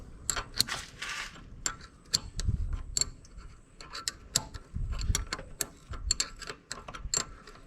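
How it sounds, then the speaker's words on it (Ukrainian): A bolt is tightened on the brake caliper of a Can-Am Outlander 800 quad, close metallic ratchet clicks coming in quick bursts with short pauses and faint knocks between them, no voices. "Болт у супроті затягуємо."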